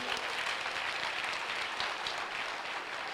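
A church congregation applauds loudly for the Lord during a worship service, a dense, steady wash of many hands clapping at once that holds constant for the whole stretch, with no one talking over it.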